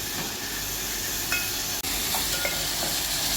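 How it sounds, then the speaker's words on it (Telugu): Masala for an aloo curry fries in a pan with a steady, close sizzle and hiss, a few faint scraping stirs and one brief clack partway through. "మసాలా బాగా ఫ్రై అయిందండి."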